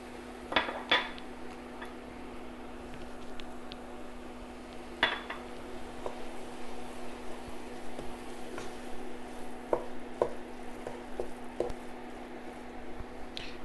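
Ginger paste and garlic paste spooned into a pot for doro wat, with scattered clinks of a spoon against cookware and soft wet squishes over a steady low hum, fairly quiet and without talk.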